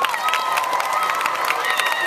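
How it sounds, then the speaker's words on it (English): Children clapping and cheering at an NFL PLAY 60 kids' day event, a dense, continuous crowd of applause with scattered shouts and whistles throughout the short stretch. "So give yourselves a round of applause."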